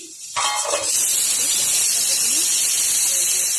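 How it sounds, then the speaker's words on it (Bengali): Steam bursts out as a cooking pot lid is lifted, starting with a brief clatter and rush, then settling into a loud, steady airy hiss that carries on evenly to the end. "এই যে এখন ঢাকনা খুলে দিচ্ছি।"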